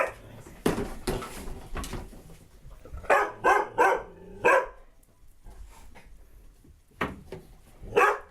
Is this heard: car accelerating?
no